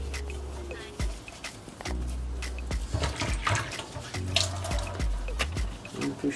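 Warm water pouring and splashing onto beauty blender makeup sponges in a basin, a continuous close trickle with gurgles and brief dripping, under someone talking in French.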